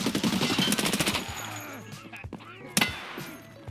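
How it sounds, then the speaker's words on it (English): An SR-3M rifle in Escape from Tarkov fires a rapid close burst, then after a pause a single sharp round cooks off from the overheated gun. "I just cooked off a round."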